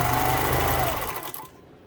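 A Pfaff 230 sewing machine stitches steadily at close range with a fast, even mechanical whir and rhythmic needle clatter, then slows and stops near the end.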